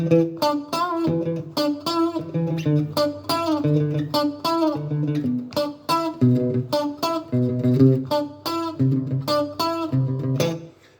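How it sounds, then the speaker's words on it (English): Electric guitar plays the main riff of a song with clean, choppy muted strums and short single notes in a tight, bouncing rhythm, up close and alone. "The main riff should sound like this."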